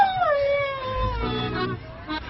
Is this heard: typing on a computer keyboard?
no